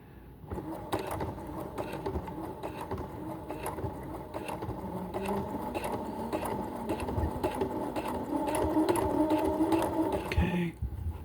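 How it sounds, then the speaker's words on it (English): A sewing machine stitches a dress seam in a steady, fast mechanical whir that runs almost continuously, fairly close, with a brief pause near the end. "Don't sew over the pin."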